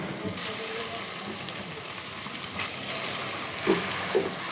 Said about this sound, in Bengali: তেলের মধ্যে আমি চিংড়ি মাছগুলো দিয়ে দিচ্ছি